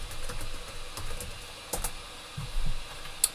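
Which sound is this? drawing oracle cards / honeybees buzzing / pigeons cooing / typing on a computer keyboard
typing on a computer keyboard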